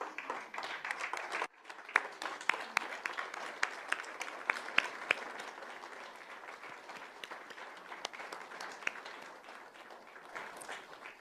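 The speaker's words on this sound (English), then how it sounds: "Would you all just stand for one more big round of applause?" A large school board meeting audience of the Peoria Unified Governing Board gives a standing round of applause: dense, steady clapping fills the room for about eleven seconds, with a few sharper claps standing out and no talking.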